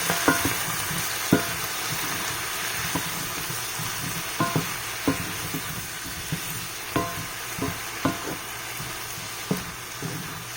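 Brussels sprouts with garlic, shallots and red wine vinegar sizzle steadily in a pan, with soft, irregular scrapes and knocks from stirring throughout and no talk.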